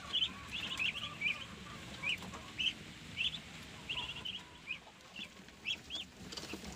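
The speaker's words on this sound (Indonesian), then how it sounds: "Ini adalah anakan entok saya yang usianya baru menginjak 2 minggu ya kawan-kawan" Two-week-old muscovy ducklings on a farm cheeping, a steady run of short high peeping calls in quick irregular bursts over a soft background hiss, with no one talking.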